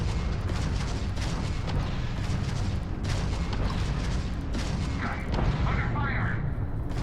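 Gunfire and explosions in Starfield roll as a dense, continuous barrage of booming blasts and shots throughout, with speech under the din.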